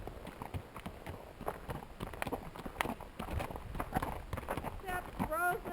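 Two horses on a sunny morning trail ride along Mill Creek, hooves clopping steadily on the ground while riders talk over them throughout; a bird chirps near the end.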